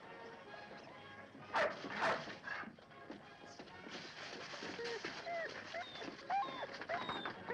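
A dog in a 1952 Western film yips and whimpers briefly in an indoor scene, with someone speaking French over it and light shuffling and room noise.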